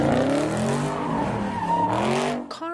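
Cars spin their tires at a city street takeover, sustained squealing rubber with rising and falling engine tones, loud and close, ending abruptly with a final chirp.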